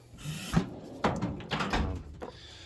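A workshop drawer slides open with a few wooden knocks and scrapes, faint and close, in short separate bursts and with no talking.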